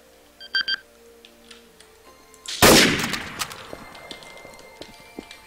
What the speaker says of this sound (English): I hear sniper shot.